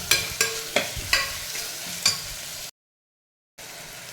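Green chillies and tomato are sautéed in a pan for veg pulao, with a close sizzle and about six rhythmic stirring scrapes, then a brief silence before the sizzling resumes.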